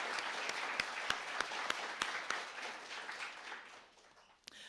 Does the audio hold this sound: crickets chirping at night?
no